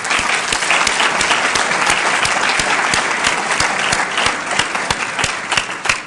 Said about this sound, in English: That certainly deserves a round of applause.